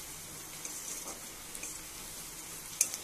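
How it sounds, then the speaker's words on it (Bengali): Turmeric, cumin and coriander powder fry in a little oil for a light fish curry of tengra fish, giving a soft, steady hiss with a few faint stirring clicks. "দেখো, এখানে মশলাটাও ভাজা হয়ে গেছে।"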